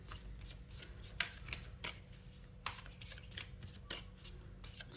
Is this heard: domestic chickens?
no